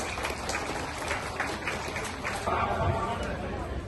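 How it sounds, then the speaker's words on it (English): A crowd claps for a team at an inter-school athletic meet, a loose, scattered patter of many hands mixed with voices and chatter in the background, swelling slightly toward the end. "please give a big hand of applause to Bobby and his team"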